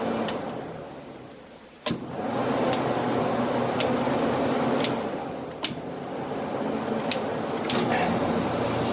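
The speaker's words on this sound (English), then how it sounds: "And the compressor only turns on medium." Fedders air conditioner compressor running on medium after capacitor and switch repair, a steady low mechanical hum with a fan-like whoosh, punctuated by several sharp clicks and knocks.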